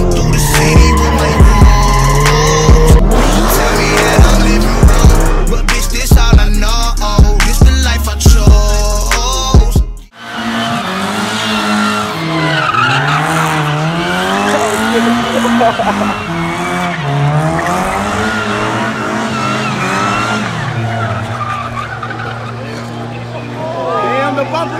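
At a Dayton street takeover car meet, a car spins with loud, sustained tire squeal over booming music, then a sudden break gives way to more screeching tires and engine roar amid crowd noise.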